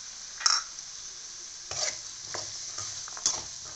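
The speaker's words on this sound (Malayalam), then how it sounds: "ഞാൻ ഈ സമയത്ത് ഈ വേവിച്ച് വെച്ചിരിക്കുന്ന കടലയും കൂടെ ഇതിൻ്റെ കൂടെ ചേർത്ത് കൊടുക്കുവാണ്" Cooked chickpeas are stirred into a pan of cooked vegetables for Kerala koottu curry, giving soft scraping stirs and a few brief sizzling bursts, fairly quiet and with no talking.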